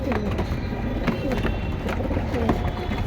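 Several pigeons coo in soft, repeated low calls against a busy, noisy background, with occasional voices murmuring.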